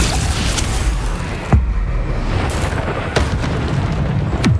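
Bombarda spell explosions in Hogwarts Legacy hit as several loud, deep booms spaced roughly a second apart over continuous battle noise.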